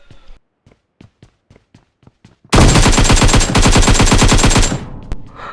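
Sustained automatic gunfire in the PUBG Mobile shooter, a loud rapid burst of shots lasting a couple of seconds, preceded by a series of lighter evenly spaced footstep-like taps.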